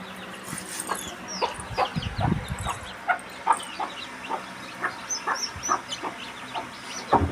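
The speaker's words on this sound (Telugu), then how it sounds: "మా కోడి పిల్లలు చేసింది 21 డేస్ అయింది" Three-week-old country chicks of a native breed peep repeatedly in quick, evenly spaced chirps, with a faint murmur of the flock and a low thump behind them.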